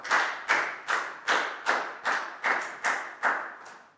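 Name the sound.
classroom applause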